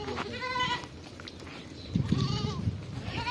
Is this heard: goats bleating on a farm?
yes